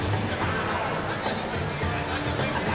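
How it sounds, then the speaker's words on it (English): A steady wash of crowd noise fills a rink during a U13 youth hockey final for the Port Huron Prowlers: broad, continuous hubbub and chatter with no single voice standing out. "This is a Prowlers crowd out here right now"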